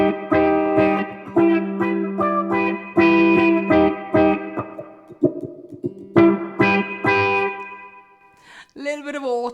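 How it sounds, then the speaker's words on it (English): A Flight Vanguard electric ukulele plays short funky chords and riffs through an auto wah effect, the notes sweeping and bright, with a brief pause midway and a warbling tail at the end. "Little bit of auto wah there."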